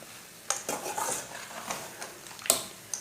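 A spoon scrapes and clinks against a metal pot while makhandi halwa is stirred with roasted cashews, cardamom and finely chopped coconut, with soft sizzling between a few sharp, close knocks.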